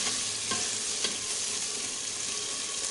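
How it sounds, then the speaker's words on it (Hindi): Chopped tomatoes being stirred into onions frying in a pan for katwa gosht, a steady loud sizzle with a few sharp scraping stirs near the start, and no voices. "अभी हम इसके अंदर डालेंगे ये टमाटर जो हमने काट के रखे थे और इसको अच्छे तरीके से मिक्स करेंगे।"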